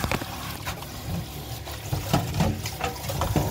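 Water pours steadily over saluyot leaves to soak them in salt water, a continuous close splashing and gurgling with no talking.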